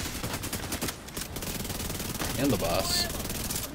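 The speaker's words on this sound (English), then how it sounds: "multiple NPCs shooting me at once" NPC enemies fire guns in The Division 2, producing dense, continuous rapid bursts of automatic gunfire throughout, with a person speaking briefly over it.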